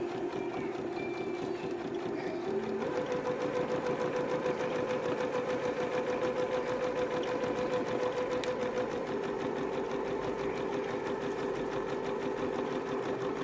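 A sewing machine stitches fabric for a pattern body piece, running at a steady, continuous close-up hum with rapid needle clatter and no pauses.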